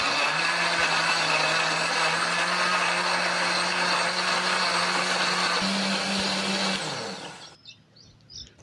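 A blender grinds chilies, candlenut, shallots and garlic with a little water, running loud and steady for about seven seconds before the motor cuts off and winds down into near silence.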